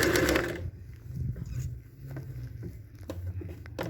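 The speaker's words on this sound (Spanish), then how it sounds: "No estiro y sigo cosiendo." A sewing machine stitches bias binding made from matching fabric onto cloth in short, quiet runs of rapid needle chatter, broken by brief pauses and small handling noises.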